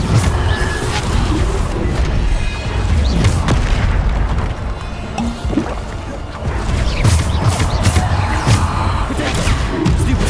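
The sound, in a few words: Bombarda spell explosion in Hogwarts Legacy video game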